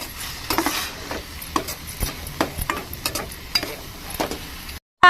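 A spoon stirring a salted curry in a pan, giving a run of close, irregular scraping knocks over a low sizzle, with no voices.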